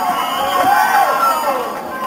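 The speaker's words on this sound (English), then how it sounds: "Launceston crowd's even starting to heat up." Crowd at the 1981 NBL Grand Final basketball game, Launceston Casino City versus Nunawading Spectres, keeps up a steady, dense roar of cheering with a commentator talking over it.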